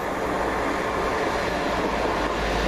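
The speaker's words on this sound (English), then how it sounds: "Just now coming in the 11:33 London Midland service from Stratford-Upon-Avon to Stourbridge Junction." London Midland passenger train arriving at Widney Manor station on the Stratford-upon-Avon to Stourbridge Junction line, a steady broadband rumble of wheels and engine holding level throughout without talk.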